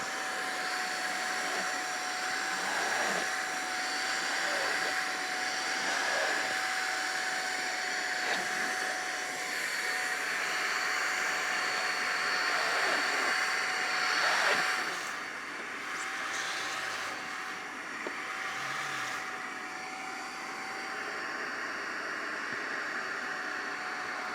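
A TAB portable upholstery spot carpet cleaner runs in turbo mode with heating on, a loud steady whine and airy motor roar with a constant tone and brief suction shifts, close and continuous without talk.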